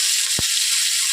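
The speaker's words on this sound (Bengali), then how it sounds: "আমি ফুলকপিগুলোকে ভেজে নিচ্ছি" Cauliflower frying in hot oil in a wok gives a constant, bright sizzle that stays loud and even throughout, with a single short knock partway through.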